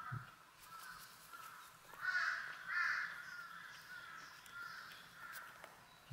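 A crow caws repeatedly a short distance off in a forest, a handful of harsh calls spaced irregularly over faint outdoor background noise.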